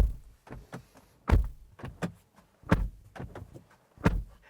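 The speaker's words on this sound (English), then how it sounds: "This is what the door slam sounds like." Several heavy thuds of a GWM Haval H6 GT hybrid's door shutting, about five solid slams spaced unevenly with quieter clicks between them.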